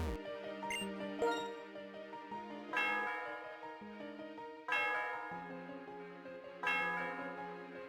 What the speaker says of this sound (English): Sound of the bell reverberates through the area.